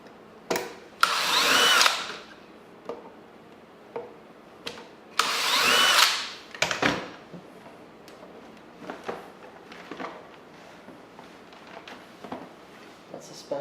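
A power drill whirs in two loud bursts, driving screws out of the chassis of a water ionizer, with small clicks and handling noises between the runs.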